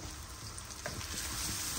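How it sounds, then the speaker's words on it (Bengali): Finely minced garlic fries in oil with a soft, even, close-up sizzle that lasts only a moment. "এখন এটাকে আমি ভাজবো প্রথমে গোল্ডেন ব্রাউন করে।"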